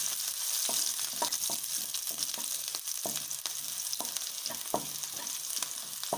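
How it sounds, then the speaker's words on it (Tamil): Ginger and green chillies sauté in a hot pan with a continuous oily sizzle, while a spoon stirs and scrapes the pan in repeated short clicks and taps. "இஞ்சி பச்சை மிளகா பாதி அளவுக்கு வதங்கிருச்சு."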